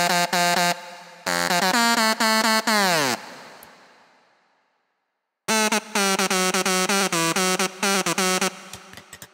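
A bright, buzzy lead synth built in Serum plays a loud, rhythmic staccato riff of stacked harmonic notes. Partway through, one phrase bends downward into a fading noisy tail. A gap of silence follows before the riff returns.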